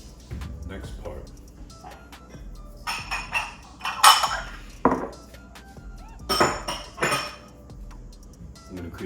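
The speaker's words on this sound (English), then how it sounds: "stir it, agitate it, scrape up the bits off the bottom with a wooden spoon" A wooden spoon stirs and scrapes the bottom of a pan after cooking Cajun garlic chicken, making bursts of clinks and scraping with pauses between, close by, and a person speaks at times over the clatter.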